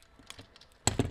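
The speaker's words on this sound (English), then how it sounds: "I'm just gonna snip that wire down in there." Wire cutters snip a wire behind a dashboard while aftermarket light switches go into a Ram 2500, two sharp close clicks near the end after faint handling noises.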